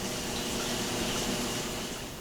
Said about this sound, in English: In a large pot, add 3 quarts of water.